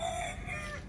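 Rooster crowing in a short, faint burst of drawn-out tonal calling over low background noise.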